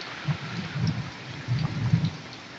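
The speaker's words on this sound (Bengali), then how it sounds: "কারণ শিলাবৃষ্টির কারণে প্রচণ্ড বৃষ্টি শিলাবৃষ্টি" Steady heavy rain with hail hissing across a wide band in Gazipur, with low rumbling thumps pulsing underneath, no voices.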